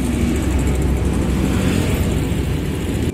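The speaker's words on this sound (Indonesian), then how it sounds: "Bus." A bus passes along a road, its heavy engine giving a loud, steady low rumble that holds for about three seconds with no talk over it.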